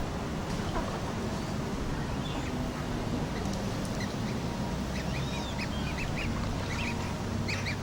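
Ducks quack and call across a landscaped churchyard pond, scattered bird calls rising over a steady wash of outdoor background noise.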